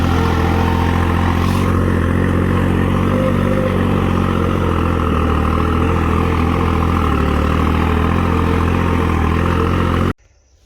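A 55 HP New Holland 3630 Plus tractor pulling a subsoiler in a field runs loud and steady for about ten seconds, then the sound cuts off abruptly.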